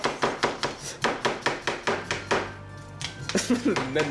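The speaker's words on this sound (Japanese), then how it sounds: "これ確かにみじん切りだよね" Rapid, steady knife chopping on a cutting board, a quick run of sharp evenly spaced taps that pauses briefly, then resumes alongside faint clatter and a voice.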